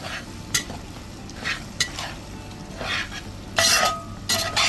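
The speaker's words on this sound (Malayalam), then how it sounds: "ഇത് നന്നായിട്ട് മിക്സ് ചെയ്യാം" Fried venison pieces are turned through pickle masala in a hot pan: close, scraping stirs and bursts of sizzle come in short waves, louder toward the end.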